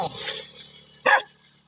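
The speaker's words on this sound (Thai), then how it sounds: "ไม่ต้องเห่าเลย" A dog gives a single short, sharp bark close by in a quiet home, with some fainter noise just before it.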